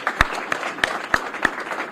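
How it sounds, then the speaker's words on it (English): Applause at a bill signing ceremony for gun violence prevention laws, heard as fairly quiet, sparse clapping with a few sharp individual claps standing out at spaced intervals. "let's give a big round of applause for all the work that we've done"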